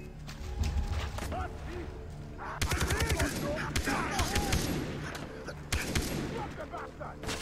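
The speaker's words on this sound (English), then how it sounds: "I don't like the recoil on these guns." Rapid gunfire from Far Cry 3, bursts of automatic shots cracking in clusters with short pauses, loud and close, mixed with game effects and a faint voice in the background.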